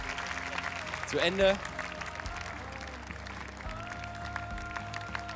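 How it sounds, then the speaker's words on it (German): A studio audience at a German televised tag championship game show applauds with a brief swell of clapping and cheering under a voice, then a quieter stretch of crowd noise. "Und zwar unter Applaus des Publikums laufen wir den Lauf"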